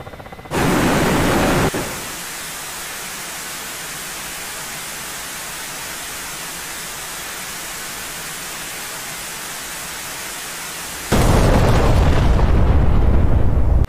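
A Kh-25ML missile fired from a Ka-50 helicopter in DCS World sets off a loud rushing burst, followed by a long steady roar, then another harsh blast near the end.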